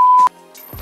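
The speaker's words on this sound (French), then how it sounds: "Tu mettras un bip" A steady, loud censor bleep tone runs for about a quarter second at the start and cuts off sharply. Faint breathy sounds and a little speech-like noise follow.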